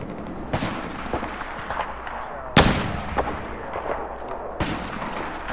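Battlefield 4 gunfire: sharp, loud single shots and short bursts spaced irregularly, with a big blast in the middle, over a low rumbling battlefield background.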